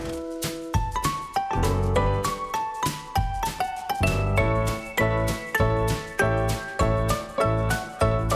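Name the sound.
church bells ringing at noon for the Angelus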